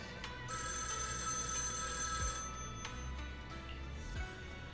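A phone ringtone from the game Zenless Zone Zero chimes in a bright, repeating melodic pattern for several seconds, fairly quiet, with a few sharp clicks and low thumps in the background.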